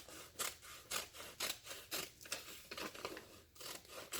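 Scissors snip through a clear plastic cover in a quick series of crisp, close cuts, about eight or nine rhythmic strokes with no talking.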